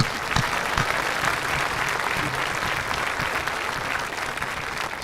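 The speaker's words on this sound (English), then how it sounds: "Can we please give him a round of applause?" Audience applause at a senior awards ceremony, a steady, dense round of clapping from a sizable crowd lasting several seconds without talk.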